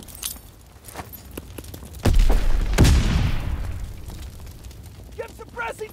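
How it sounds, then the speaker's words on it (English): Two heavy grenade blasts in the World War II shooter Call of Duty: WWII, a sharp boom just after two seconds and another a moment later, each leaving a long rumbling tail beneath gunfire and voices. "Throw a grenade!"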